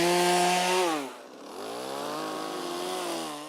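A chainsaw carves a red cedar log, its engine holding a high whine before dipping, then climbing back into a steady, loud cutting drone.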